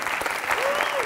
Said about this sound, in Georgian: კიდევ ერთხელ აპლოდისმენტები სანტის.